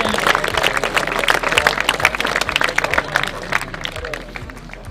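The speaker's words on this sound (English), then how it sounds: "applause for the bronze medal winners" A crowd claps for the bronze medal winners at a schools U17 hockey tournament's final-day ceremony, steady, mid-distance applause with cheering and murmuring that thins out slightly toward the end.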